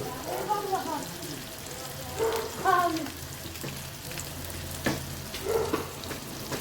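Sardines fry in oil outdoors with a constant crackling sizzle, while people talk intermittently over it.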